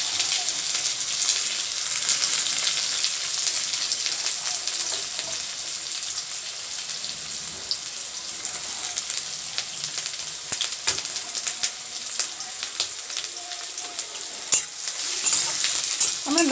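Chopped onions sizzle in hot oil seasoned with garam masala for chicken biryani, a steady loud crackling fry broken by occasional scrapes and clinks of a spoon stirring the pan.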